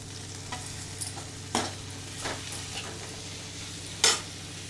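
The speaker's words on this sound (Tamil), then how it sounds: "வெங்காயம் பொன்னிறமாக வந்து இந்த மாதிரி இருக்கு, கொஞ்சம் ஃப்ரை ஆகணும்." Golden onions fry in a pan for prawn biryani. A soft, steady sizzle runs throughout, with a few sharp utensil strokes against the pan and no speech.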